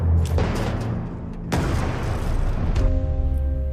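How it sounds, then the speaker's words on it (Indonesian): A grenade bursts inside a German tank in a war film: two heavy, loud booms with rolling low rumble, followed by a sustained musical tone underneath. "ia pun mengambil tank Jerman tersebut dan melemparkan granat ke dalamnya"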